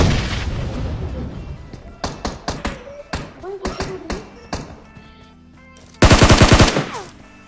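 Gunfire in PUBG, a string of sharp sporadic shots followed by a loud rapid automatic burst near the end, mixed with someone talking.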